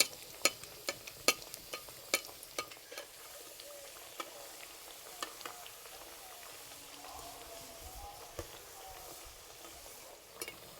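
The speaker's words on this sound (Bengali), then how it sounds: "এইভাবে উপর দিয়ে একটু তেল দিলে এই যে লেয়ারের মধ্যে তেলটা ঢুকবে আর খুব সুন্দর ভাজা হবে।" Layered pitha frying in hot oil, with oil spooned over the top, gives a steady soft sizzle with scattered sharp crackles and pops, close up with no talk.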